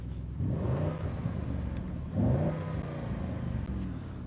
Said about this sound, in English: I'm gonna rev it just one more time, just why not?